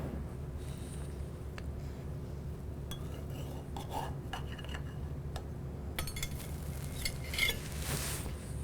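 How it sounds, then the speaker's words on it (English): A knife cuts into the crust of a baked keto quiche, giving a run of light clinks, taps and scrapes against the dish over a low, steady room hum, with no one talking. "we're going to cut into it, show you that beautiful crust"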